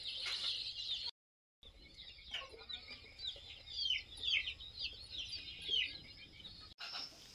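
Hens cluck and murmur as they are set on crates of eggs, a near, restless run of soft clucks and chirpy calls with brief gaps, no talking.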